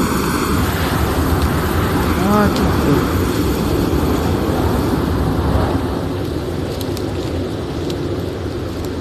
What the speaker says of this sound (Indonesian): oh iya pesawat